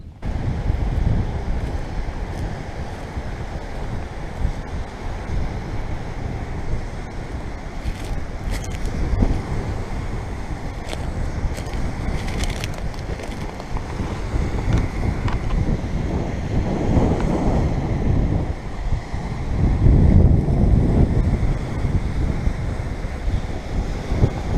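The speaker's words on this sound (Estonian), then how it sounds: "Mere äärde tulin ära" Waves and steady wind at the seashore along the Estonian coast near Käsmu peninsula, continuous surf wash with gusty microphone wind, growing louder toward the end, no talking.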